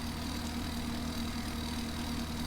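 A motor boat engine runs at a low, steady idle, a faint continuous hum with no change over the short stretch.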